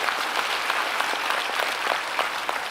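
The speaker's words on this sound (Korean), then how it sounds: "우리 하나님 앞에 영광의 박수 한번 올려드립니다." Church congregation applauding during a Korean Sunday worship service, a steady, dense wash of many hands clapping together without pause, moderately loud and continuous, with no voices standing out.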